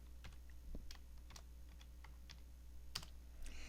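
Quick, irregular keystrokes tap on a computer keyboard, a dozen or so crisp clicks spread across a few seconds, close but quiet over a faint steady hum, with no talking.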